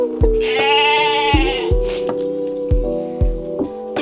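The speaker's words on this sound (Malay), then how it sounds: "Sana tu biri-biri." Sheep bleat loudly and close at a mini zoo in Simpang Renggam, one long wavering cry followed by several shorter bleats in an uneven run, with a brief noise burst partway through.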